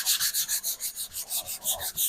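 Dry sanding by hand makes rapid, even back-and-forth scratchy rasps, about five strokes a second, close and loud, with no talking.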